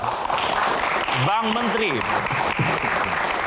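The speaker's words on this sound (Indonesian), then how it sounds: "Oke, kita kasih tepuk tangan dong." Steady applause from a crowd fills the clip while someone speaks over it.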